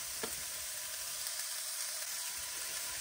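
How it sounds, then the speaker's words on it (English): Celery, onion and shredded carrot sizzle in an unwashed pan that still holds meat drippings, giving a soft, even hiss with a faint scrape or two, heard alone. "add my celery, onion, and shredded carrot to the unwashed pan"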